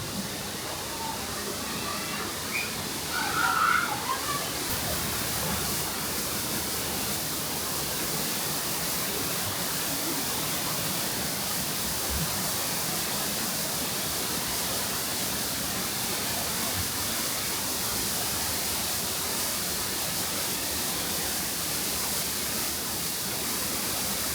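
A waterfall at Volcano Bay water park on a crowded day roars in a dense, unbroken rush of falling water that fills the whole span, with voices faintly mixed in underneath.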